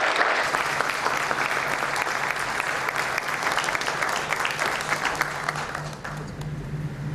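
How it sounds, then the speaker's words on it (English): Sustained audience applause fills a hall at a maritime symposium in Goa, steady dense clapping from a large crowd that holds at an even level for several seconds before easing slightly near the end. "give a round of applause to all the people who have been working hard to compile"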